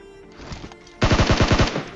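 Rapid burst of automatic gunfire in the video game PUBG Mobile, about eight loud close shots in quick rhythm following a quieter, scattered stretch of sporadic distant shots.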